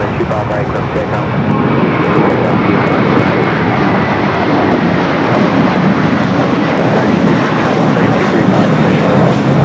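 An airliner taking off from runway 25R at LAX, heard as a loud, steady roar of engines that holds its broad rumble throughout.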